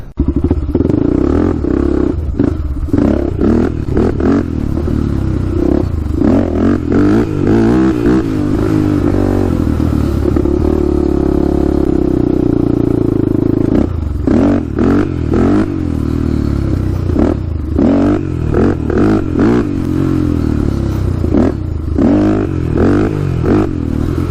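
A Honda 400EX quad's engine revs and drops repeatedly while being ridden, loud and close, with throttle blips, a sustained pull mid-ride and some clatter, with no talk over it.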